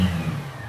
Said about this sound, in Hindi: कितना भी थ्रोटल दे रहे हैं, अब बाइक बिल्कुल भी मिसिंग नहीं कर रहा